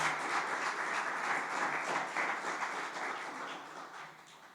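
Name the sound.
congregation applauding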